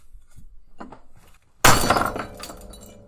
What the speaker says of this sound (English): There's glass everywhere.